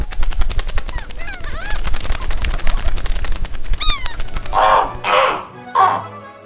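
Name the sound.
foley effect of birds flying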